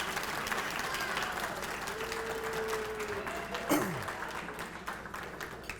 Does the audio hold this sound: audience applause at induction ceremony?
yes